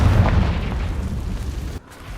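A Confringo fire spell explodes in the Hogwarts Legacy video game inside an Acromantula cave: a loud, rumbling low-end blast that sustains, then cuts off abruptly near the end before a quieter tail returns.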